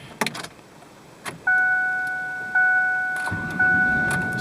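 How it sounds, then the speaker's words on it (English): Car starting right after a new battery was fitted: a few clicks and key jingles, then three chimes of dashboard warning tones, with a low engine rumble catching near the end, close by. "Starts up like a brand new car"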